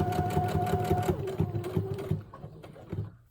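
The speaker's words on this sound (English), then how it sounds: "I'm just stitching, and whatever I run over, I run over." A domestic sewing machine runs in quick rhythmic bursts, stitching fringe onto a Christmas project, with a steady mechanical whir that slows and stops near the end.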